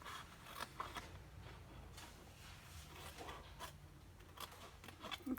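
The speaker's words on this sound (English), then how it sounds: "on each side, go to that intersecting score line there and cut up to that score line" Scissors cutting card stock along score lines for a slender Halloween candy box, a string of quiet, close, crisp snips and rustles at irregular intervals, with no talk.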